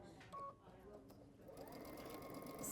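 A sewing machine running with a straight-stitch foot, its motor whirring quietly and building steadily toward the end, with brief tones and faint voices in the room.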